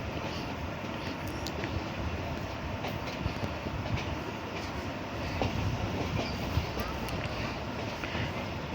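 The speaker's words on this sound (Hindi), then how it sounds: "अभी एक और एक्सप्रेस गाड़ी का क्रॉस पड़ने वाला है।" An express train rumbles past nearby with a steady clatter of wheels on rails, broadband and continuous throughout, with faint metallic squeals.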